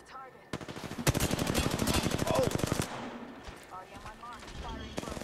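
Rapid automatic gunfire rattles in Apex Legends, a sustained loud burst of evenly spaced shots that cuts off abruptly, followed by quieter distant shooting while players talk.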